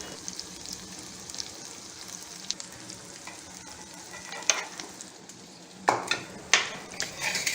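Stuffed brinjals sauté in hot oil on a low flame with a soft, steady sizzle, broken by occasional sharper scrapes and clinks from stirring in the pan, and no one talking.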